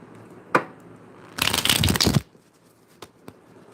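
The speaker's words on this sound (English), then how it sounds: "really shuffling these" Tarot cards being shuffled in one dense riffling burst of roughly a second, close and fairly loud, with a sharp tap shortly before and a few soft clicks after in an otherwise quiet room.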